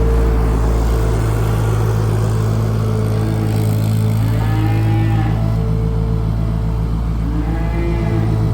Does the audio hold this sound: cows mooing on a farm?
yes